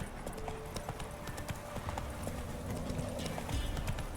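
Roach the horse's hooves in The Witcher 3 video game, a quick, steady clip-clop of hoofbeats at a moderate level, continuing without pause.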